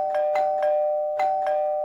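A doorbell chimes in quick repeated rings over a steady electronic tone, two bursts of pulses with a short gap between.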